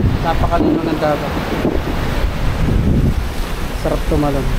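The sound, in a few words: sea waves and wind by a cave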